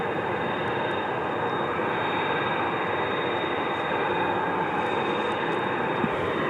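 Aircraft at Dallas-Fort Worth airport at night, heard as a constant broad engine roar and rumble that holds level throughout without clear rise or fade.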